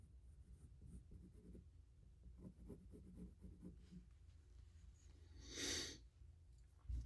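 A pencil traces over paper to transfer graphite onto a wooden fishing lure blank, giving soft, close, irregular scratching strokes, with a brief louder breathy burst near the end.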